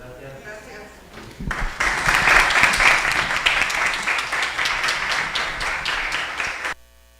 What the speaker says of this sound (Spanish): ya lo despedimos con un aplauso bien merecido